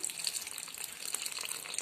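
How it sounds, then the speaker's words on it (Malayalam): Tamarind water pours in a short, steady splashing stream into a pot of eggplant curry, close and clear. "നമുക്കിപ്പം പുളിവെള്ളം ഒഴിക്കാം"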